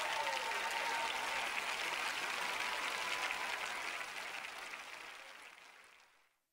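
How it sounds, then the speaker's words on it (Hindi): An audience at a Hindi-language church sermon applauds loudly in a steady, continuous roar that fades away over the last couple of seconds. "चलो तो आप जोर से तालियां बजाइए"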